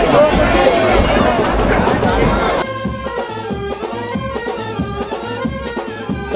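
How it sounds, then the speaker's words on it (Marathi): A large crowd at the Aai Raibadevi palanquin festival, a dense roar of many voices and chatter that fills the air at first, then thins to a softer babble with steady rhythmic drumming and music beneath it. "गर्दी बघा, गर्दी."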